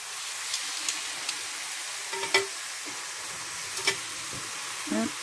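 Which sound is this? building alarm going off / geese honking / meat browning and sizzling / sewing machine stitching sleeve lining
meat browning and sizzling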